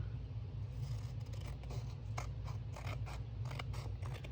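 Scissors trimming wallpaper, a faint, continuous rhythmic snipping and scraping of blades through paper over a low steady hum.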